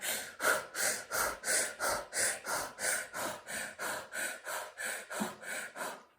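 Rapid, rhythmic breaths sound close and clear, about three per second, each a sharp huff in and out repeating evenly as a quick breathing exercise.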